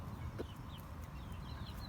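A hen, mother of white chicks, clucks softly a few times in a farmyard coop alongside a rooster, with steady low background noise throughout.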